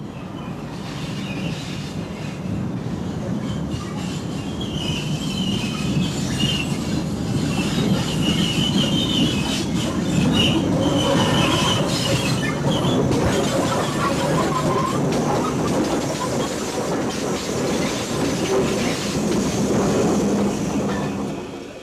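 The steam locomotive Mallard departs with its train at close range, a steady heavy roar of wheels and carriages with faint squeals, no voices.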